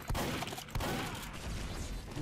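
Rapid gunfire from the Team Fortress 2 video game, a dense volley of repeated shots with a couple of sharp thumping bursts, loud and continuous throughout.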